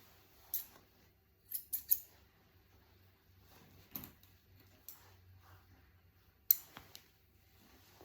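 Scissors trim a dog's hair during grooming, making quiet, crisp snips in short irregular clusters with long near-silent gaps, close and faint.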